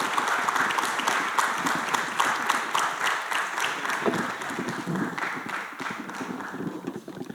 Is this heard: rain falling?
no